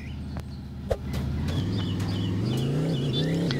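A slow car in a video game rumbles along with a steady low engine drone that rises gradually in pitch, plus a few faint bird chirps and a brief knock near the start.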